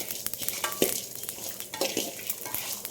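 Black pepper and cumin dry-roast in a pan for garlic kuzhambu, with a steady soft crackle and sizzle broken by light scraping stirs, close and alone.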